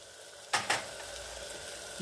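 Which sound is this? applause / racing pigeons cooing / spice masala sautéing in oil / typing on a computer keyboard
spice masala sautéing in oil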